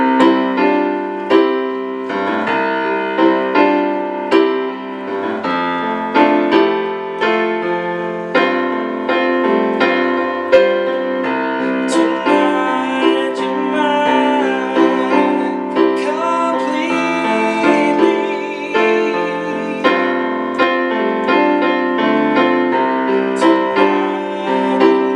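Live performance of a song, steady full-band music with sustained harmonies and a rhythmic pulse, playing continuously at moderate loudness with no talk over it.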